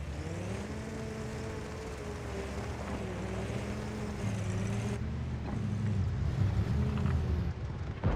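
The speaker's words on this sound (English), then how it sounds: "Why does the engine sound like a lawnmower?" A tank engine in a video game drones with a steady, buzzing, lawnmower-like tone that rises slightly in pitch and loudness toward the end, heard on its own.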